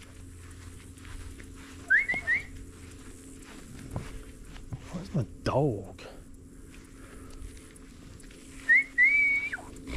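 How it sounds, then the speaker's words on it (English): A person whistles short rising calls for a dog outdoors, two brief bursts near the start and end, while someone talks and footsteps shuffle nearby. "I gotta develop this whistle."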